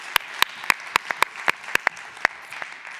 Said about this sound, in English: can I just get a round of applause for all of our past speakers from this session